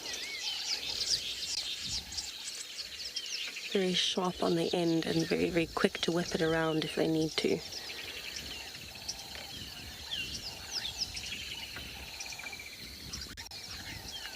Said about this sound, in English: You can hear there's quite a lot of birds that are active this morning